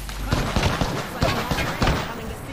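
Muffled gunfire coming through a wall in the Apex Legends battle royale, heard as a string of dull thumps and cracks in short bursts, fairly close, under a busy game soundscape.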